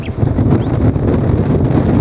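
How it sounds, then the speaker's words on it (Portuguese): A gust of wind blows across an outdoor fishing spot, a steady broadband roar that buffets the microphone and holds loud and close for about two seconds, with no talking. "do nada passou um pé de vento aqui, gente"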